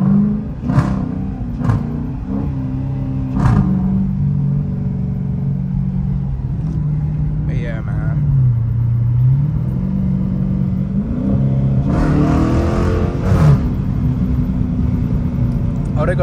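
A Dodge Challenger RT running with no hood, driven on a street, a loud, close engine rumble that rises and falls with revs while people talk over it.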